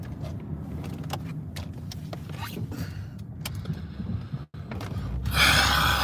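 A car engine holding a high idle with its transmission stuck and refusing to shift, giving a steady low rumble with scattered clicks and knocks, then a louder hissing rush near the end.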